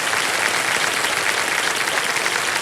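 A studio audience at the KBC quiz show applauds loudly and continuously, a thick wash of clapping with no talk over it.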